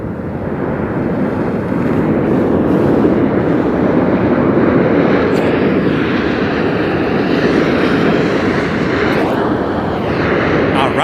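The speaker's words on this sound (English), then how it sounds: "this was going to be Southwest Flight 2547 coming in from SJC San Jose, California" A Southwest Airlines Boeing jet arriving from San Jose at Las Vegas Harry Reid International Airport, its engines a loud, steady roar with broadband rushing and some wind buffeting on the microphone.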